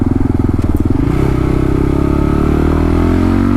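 A Kawasaki KLR 650 Gen 3 motorcycle with a 16-tooth sprocket cruises on a highway, its single-cylinder engine droning loud and steady with a brief rise in pitch near the start, wind rumbling underneath.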